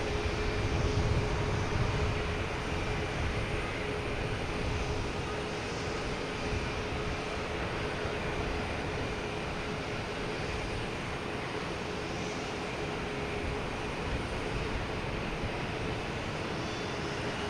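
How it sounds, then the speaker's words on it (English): An American Airlines Airbus A321neo arriving from Philadelphia at Boston Logan Airport gives a steady, broad jet roar that holds at an even level for the whole stretch, without any talk. "We have American Airlines coming in from Philadelphia on A321neo."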